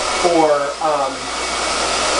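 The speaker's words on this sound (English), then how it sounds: "just have the blow dryer on high" A hair dryer runs on its high setting, a steady loud broadband blast throughout, with a brief spoken word near the start.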